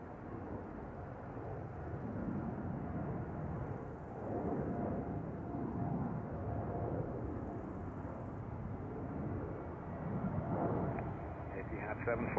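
A jet airliner departs Zurich Airport on runway 14 during morning traffic, a steady broadband roar that holds for the whole stretch and swells and fades in slow waves, loud and continuous, with no voices over it.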